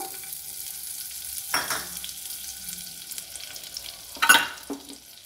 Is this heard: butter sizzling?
yes